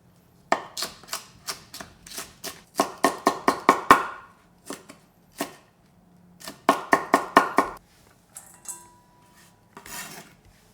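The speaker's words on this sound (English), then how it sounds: "Just chop it up." A knife chops green chili pepper on a cutting board in quick rapid bursts of sharp close taps, with pauses between runs and no talking.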